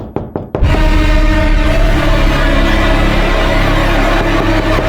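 Knocking on a door late at night: a few quick sharp knocks at the start, then cut off by a loud sustained sound that fills the rest.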